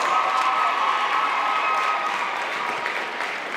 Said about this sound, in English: Let's have a big round of applause for both of our squads.